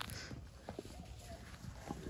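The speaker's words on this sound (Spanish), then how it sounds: "Ahí va el caballo atrás de ti." A horse walks on a ranch in Sinaloa, its hooves giving a few faint, scattered clip-clops against a quiet outdoor background.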